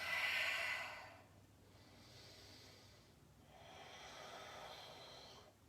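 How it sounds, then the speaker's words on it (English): Slow, deep yoga breaths, close and fairly soft: a long breathy exhale, a pause, then another drawn-out breath with no talking. "Big deep breaths."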